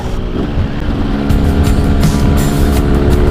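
A stock, unported 2002 Yamaha RX King two-stroke motorcycle on a ride, its engine droning loud and close with a steady buzzing note and slight rises in revs throughout, without talk.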